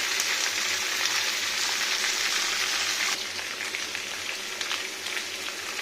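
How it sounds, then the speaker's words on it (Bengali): Carrot, beans, eggplant and potato fry in a pan for a vegetarian mixed-vegetable dish, making a steady, close hiss of sizzling oil that softens slightly partway through, with no speech. "এখানে ভাজবে অনেকক্ষণ।"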